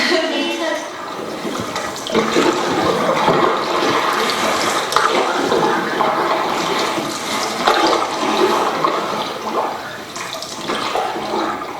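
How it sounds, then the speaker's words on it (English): Water runs loudly and steadily while burnt oatmeal and blackened noodles are scrubbed from the bottom of a huge pot at a canoe campsite; close splashing and sloshing with scraping bursts throughout, no speech. "Scrubbing blackened oatmeal and blackened noodles from last night out of the bottom of a huge pot"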